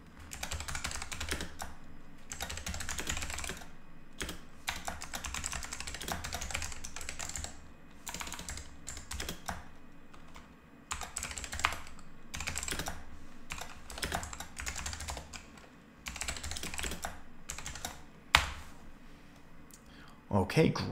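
Fingers type on a computer keyboard in a steady, close clatter of rapid clicks and keystrokes. The typing runs with only brief pauses for about twenty seconds.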